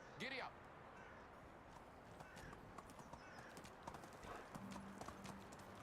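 A horse trots in the medieval survival game Medieval Dynasty, with steady clip-clop hoofbeats running throughout at moderate distance, while a voice speaks briefly at the start.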